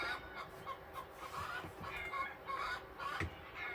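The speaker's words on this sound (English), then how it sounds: "They just need to go away and go do their squawking somewhere else." Chickens squawk and cluck outside, with repeated fairly faint calls from a short distance over a low background hum and no talking.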